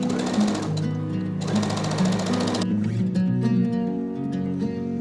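Sewing machine stitching two hat panels together with a 1 cm seam allowance, with steady loud motor runs stopping and starting in a couple of bursts, a low hum continuing between them.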